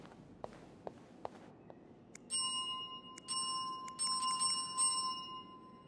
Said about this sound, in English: Well, then ring a bell again.